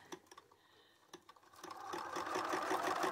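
A sewing machine stitching quilt pieces for a nine patch block starts up after a few quiet clicks and then runs in a steady, fairly faint mechanical whir, heard close by.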